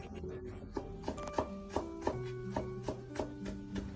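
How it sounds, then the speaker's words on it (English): A knife chops ginger into fine mince on a board, with steady, evenly spaced taps about three per second, close and moderately loud over a faint tonal background. "finally cut all into slightly thinner minced ginger"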